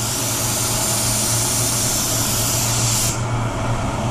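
A paint spray gun hisses continuously and close up, laying a coat of pearl white automotive paint onto a spray-out card, a steady airy rush that thins slightly near the end.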